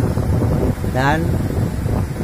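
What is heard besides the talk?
strong wind at the sea shore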